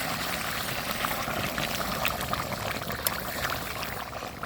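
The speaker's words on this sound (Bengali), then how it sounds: "এখন পানি দিয়ে দিব তরকারিতে" Freshly boiled water is poured into a pot of duck curry cooking on a clay stove, making a continuous, soft, splashing rush that stays even for several seconds.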